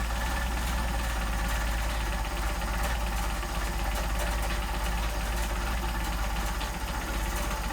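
A Mercedes 190SL engine on machined Solex carburetors idles very low and steady, a continuous deep rumble with a fine mechanical patter throughout, close and unbroken by talk.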